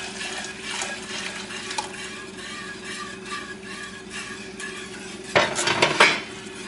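A whisk stirs milk in a pot over high heat with light metallic scraping and clinks, building into a louder burst of rapid clattering near the end.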